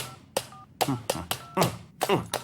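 Telephone number being dialed on a keypad, a quick series of about seven tone bursts and taps in an irregular rhythm, close and clear.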